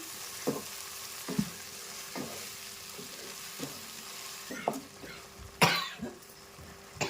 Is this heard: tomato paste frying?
yes